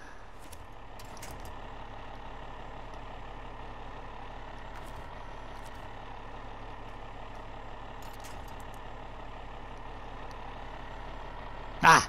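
A modded wrecker truck in the Snowrunner video game idles and rumbles with a steady engine drone that runs unbroken throughout, with faint intermittent beeps over it and a brief louder burst right at the end.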